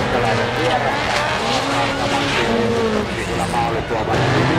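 Race cars roar and skid on a Finnish jokkis dirt track as one car spins out, engines loud and close under an excited commentator's voice.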